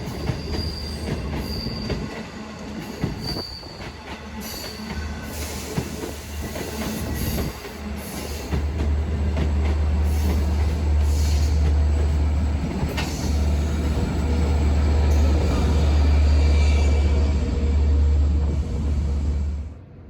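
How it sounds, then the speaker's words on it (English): A Long Island Rail Road Oyster Bay Branch diesel train rolls past nearby, wheels squealing and clattering over a heavy, steady engine rumble that swells louder in the second half. No voices. "we make it just in time to catch Oyster Bay Branch train number 521 to Jamaica"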